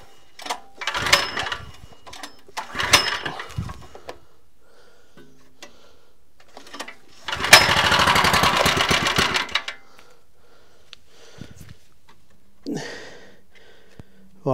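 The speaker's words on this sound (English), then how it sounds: "We'll just give it a couple of slow pulls first, just to get everything around the engine." An Evolution wacker plate compactor's petrol engine is pulled over by its recoil starter: a few short rasping pulls, then a longer two-second churning crank that fails to catch, with quiet gaps between attempts.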